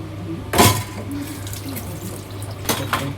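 Water from a tap pours into a mixer jar in a home kitchen, with two short splashing bursts over a low steady hum, close and fairly quiet.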